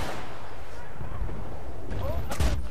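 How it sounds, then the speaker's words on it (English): Heavy tank cannon fire and explosions in Battlefield Bad Company 2, booming blasts and gunfire over a constant battlefield roar, with a loud impact near the end and players talking throughout. "Is that a tank? It's yeah, it's a tank."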